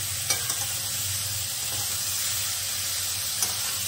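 Ridge gourd stir-fried in a pan for a poppy-seed dish with potato and green chilli paste, giving a steady close sizzle and hiss with a few faint scraping stirs, no talking.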